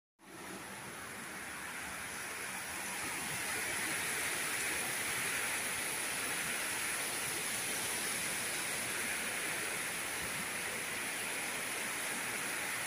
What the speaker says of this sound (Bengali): দেখেন বাপরে বৃষ্টি হইতেছে